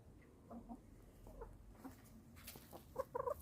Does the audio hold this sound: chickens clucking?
yes